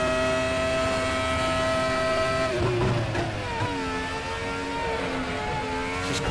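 A Formula X-17 race car in the RaceRoom racing game accelerates back up through the gears onto the home straight, its high engine whine climbing, dropping at a shift, then rising again, loud and steady.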